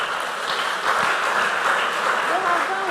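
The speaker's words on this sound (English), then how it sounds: "You won't clap for them." A room full of people clapping steadily for a few seconds at a school competition quarter-final, with murmured voices mixed into the applause.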